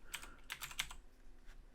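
Quick bursts of keystrokes on a computer keyboard, a handful of close, crisp clicks in an uneven rhythm, with no voice over them.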